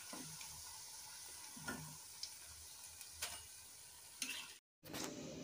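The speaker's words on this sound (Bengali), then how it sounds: "কাটলেটগুলো যেগুলো ছিল ওগুলা তেলের মধ্যে দিয়ে আপনাদের আবারও আমি ভাজাটা দেখিয়ে দিচ্ছি" Fish cutlets made from fish fillet fry in hot oil over medium heat, giving a faint, steady sizzle broken by a few soft clicks and taps.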